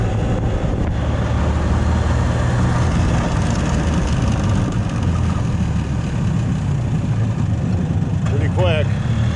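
A Yamaha G1 golf cart engine idles cold on choke while warming up, a steady low rumble that stays loud and unchanging throughout.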